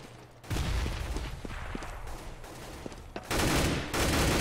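Gunfire in a Counter-Strike match on de_nuke, close and loud, with rapid overlapping shots and bursts, several heavy volleys, and a sharp loud burst near the end.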